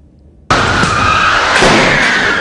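A speeding car driven by a high school student skidding out of control in a crash, a sudden loud burst of harsh tire-scraping noise that starts abruptly and continues without a break.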